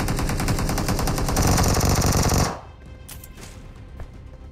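Sustained rapid automatic gunfire in PUBG / BGMI, a loud continuous burst of shots that cuts off abruptly, leaving quieter ambient game sounds with a few faint distant pops.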